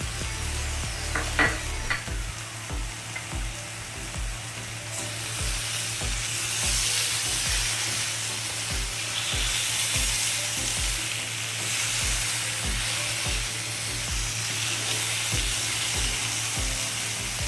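Elephant foot yam stalks with chopped green chilli fry in a pan with a constant loud sizzle, while a spoon knocks and scrapes in a regular, rhythmic stirring beat throughout.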